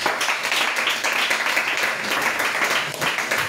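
A church congregation applauding together, a sustained dense patter of many hands clapping at steady volume, with a faint voice in the mix.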